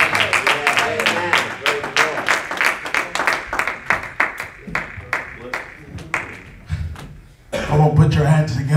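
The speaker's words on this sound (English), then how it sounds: "So let's clap our hands for Brother Charlotte." A church congregation claps hands in a strong, regular rhythm, sharp and close, fading near the end before louder voices and sound rise again.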